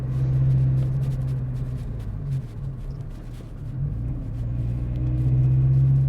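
Toyota GT86 engine rumbling steadily above 3000 RPM, a loud continuous low drone with a slight dip in the middle before building again, heard close and alone without talk.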